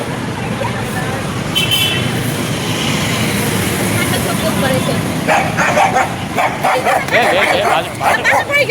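A pet dog about eight months old barks and yips in short bursts outdoors, close and fairly loud, while people talk over a rushing background noise.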